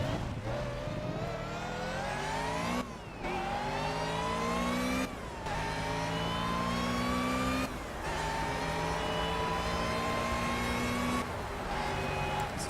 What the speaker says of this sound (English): This is definitely a Honda engine.